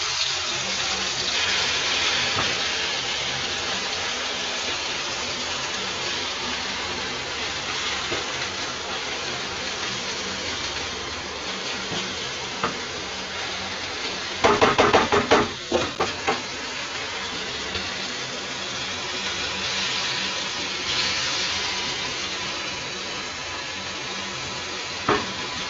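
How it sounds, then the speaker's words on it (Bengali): Mini Moghlai paratha fries in a pan with a steady, hissing sizzle throughout, broken midway by a burst of louder crackling and clattering. "হালকা আছে, এটাকে আমি ভাজছি।"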